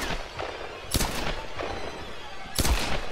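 Two loud, sharp gunshots ring out in Tomb Raider, about a second and a half apart, over quiet game ambience with faint murmurs.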